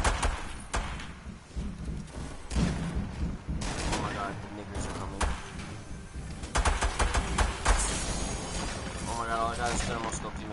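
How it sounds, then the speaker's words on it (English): Gunfire in the video game Fortnite crackles in dense bursts throughout, mixed with game effects and voices talking over the action. "I'm getting shot at, Emmanuel."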